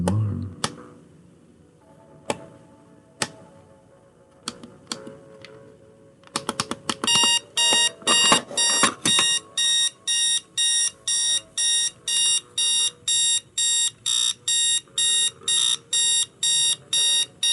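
A circuit-bent Advance digital alarm clock gives a few scattered clicks and chirps, then settles into a loud, steady run of rapid, evenly spaced electronic beeps that repeat in regular bursts to the end.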